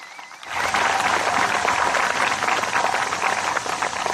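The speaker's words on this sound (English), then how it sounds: "Give Todd a big round of applause." At an outdoor municipal band concert, an audience bursts into loud, sustained applause and clapping after a short quiet lead-in, the dense clatter of many hands continuing steadily to the end.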